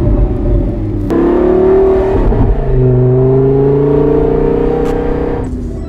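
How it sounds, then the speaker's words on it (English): A diamond-covered Lamborghini, the Sharerghini, roars loudly with its engine held at high revs, the pitch rising and wavering steadily with a brief dip and lift, close and continuous with no talking. "Most people don't realize how loud the Sharerghini is, but in real life, it's very, very, very loud."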